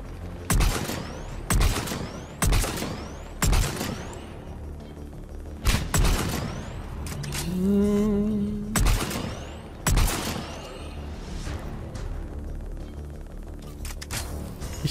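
Sniper rifle shots in the Mass Effect 3 video game ring out one at a time, loud and sharp, around ten spread over the stretch with a short whirring mechanical whine between them.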